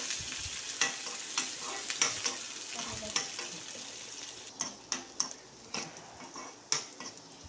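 Shallots, cashews and raisins fried until brown are poured sizzling into payasam, with a soft continuous crackle under repeated sharp clinks of a spoon against the pot.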